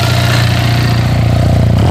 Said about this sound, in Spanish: Ay, poderoso el sonido de esta moto,